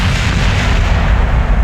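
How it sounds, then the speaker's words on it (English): A loud, close explosion after a rocket stage is jettisoned in Kerbal Space Program, a dense roaring rumble that fills the whole short stretch without letting up. "Damn, big explosion from that."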